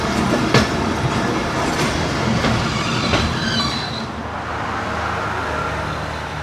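Awami Express passenger train running past on the line at Ghungrila railway station in Pakistan, a loud, steady rail roar with wheel clatter and faint squeals, recorded close by, easing slightly toward the end.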